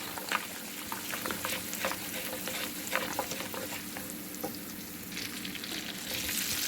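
Cashew nuts and fennel seeds frying in a pan give a soft, continuous sizzle with scattered pops and stirring scrapes, close and alone with no voices.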